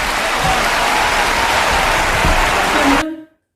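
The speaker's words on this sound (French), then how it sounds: "Faites un tonnerre d'applaudissements à Damien." Loud, sustained audience applause greets the guest Damien at a clown association's live show, a dense clapping roar that stops abruptly after about three seconds.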